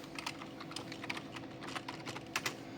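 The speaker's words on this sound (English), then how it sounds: "I'm just going to type in ethanol" Keys clatter in quick irregular bursts as someone types on a computer keyboard at a lab FTIR instrument setup. The taps are close and clear over a faint room hum, with no talking.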